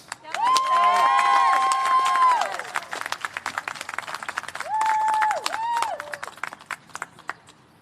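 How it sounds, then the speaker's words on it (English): Scattered audience applause at a graduation ceremony, uneven clapping running throughout, partly masked by two bursts of loud whistle-like tones, then continuing more sparsely. "Otro aplauso para Moisés Armas."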